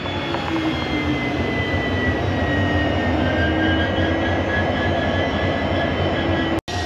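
A WDP 4D diesel locomotive hauling the Chamarajanagara–Tirupati train, a steady, loud engine drone with a low rumble and faint whining tones that continues unbroken, ending in a brief dropout near the end.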